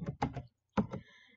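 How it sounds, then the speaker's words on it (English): Someone types a word into an Excel spreadsheet on a computer keyboard: a few faint, close keystroke clicks in two short clusters separated by a pause. "I am going to type in the word balance."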